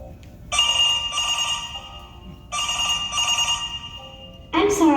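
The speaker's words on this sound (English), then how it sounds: "I have to take this phone call." A telephone rings in two long, loud bursts of bright trilling bell tones, separated by a short pause, with a voice starting right at the end.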